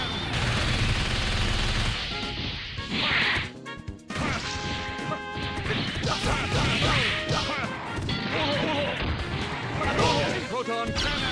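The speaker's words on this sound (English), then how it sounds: "Unity. Proton cannon." A proton cannon fires in a video game: dense, crashing blasts and rapid gunfire-like bursts fill the stretch, loud and close, with a voice talking over the action.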